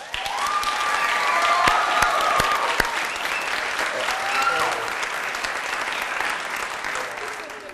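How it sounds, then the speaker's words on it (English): An audience gives a sustained round of applause at a money makeover finale event, a thick, even roar of clapping that holds for several seconds, with scattered voices and cheers under it. "give everybody a round of applause"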